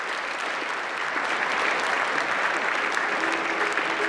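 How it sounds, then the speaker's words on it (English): Dinner audience at the 2026 White House Correspondents' Dinner applauding award winners: dense, steady clapping fills the room at full strength throughout, with a faint murmur of voices beneath. "Let's hear it one more time for this year's winners."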